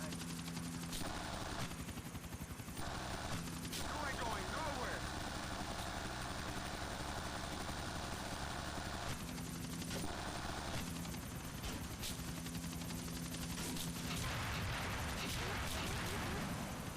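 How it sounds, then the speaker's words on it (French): Aircraft engines drone overhead in the video game GTA IV: The Ballad of Gay Tony, a steady mechanical roar mixed with bursts of gunfire and other game sounds throughout. "Ah, des avions."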